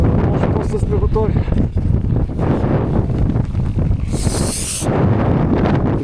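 Strong, steady wind roars and buffets the microphone throughout on a -20°C winter hike, with people talking intermittently underneath the gusts.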